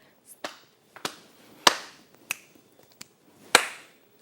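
A live body percussion pattern of leg pats, hand claps and finger snaps, performed as a music lesson exercise: about eight sharp, separate hits spaced unevenly across a few seconds, close and fairly quiet, with no talking.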